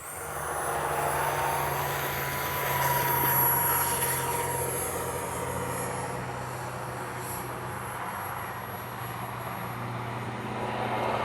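An X-Fly SU-57 RC jet plane flies overhead with a steady whirring engine roar that swells and fades slightly as it passes, continuous and moderately loud, without talking.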